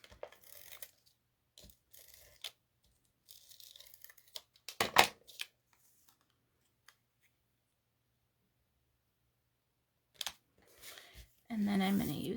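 Scissors snipping through layered paper craft pieces, a few short crisp cuts and rustles scattered among quiet gaps, close and faint, with a louder paper crinkle near the end.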